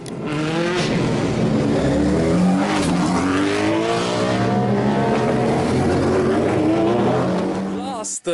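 A loud Osella SR4 race car engine, 1400 cc or 1600 cc derived from the Suzuki Hayabusa motorcycle, revs hard and climbs steadily through its gears on a hillclimb in Massa Lubrense, Italy, sustained and close, ending with a sharp cutoff.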